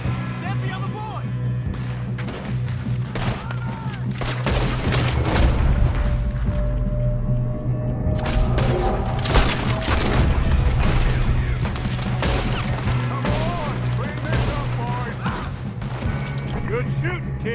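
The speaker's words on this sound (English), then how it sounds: "Good shooting, kid." Dense gunfire in Red Dead Redemption 2 during a cold snowy shootout, with rapid overlapping shots, booms and impacts continuing throughout under shouting game voices and a low music bed.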